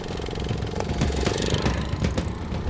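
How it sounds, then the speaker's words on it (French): A Honda Amigo four-stroke moped engine runs flat out, giving a close, loud, continuous buzzing drone with a rapid, slightly uneven pulsing. "C'est au tour de Steph et de son Honda Amigo d'aller le plus vite possible."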